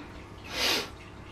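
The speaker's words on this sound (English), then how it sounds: "excuse me while I sneeze" A single sneeze from a person standing beside a portable power station, one short breathy burst that rises and fades within about half a second against a quiet room.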